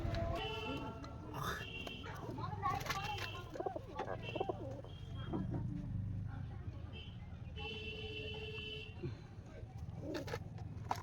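Soft throaty cooing of pigeons nesting on eggs in a loft, repeated low calls near the microphone, heard under someone talking, with faint traffic and occasional toots in the background.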